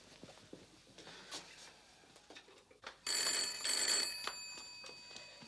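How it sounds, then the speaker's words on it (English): An old-fashioned telephone bell rings in a loud, close burst of about a second, after some quiet shuffling and light knocks in a room. "I'm going to phone him."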